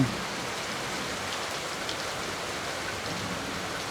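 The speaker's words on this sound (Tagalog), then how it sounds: "Walang tigil ang ulan." Steady, continuous rain pours down outdoors, a dense even hiss of drops on surfaces that holds at a moderate level throughout with no voices.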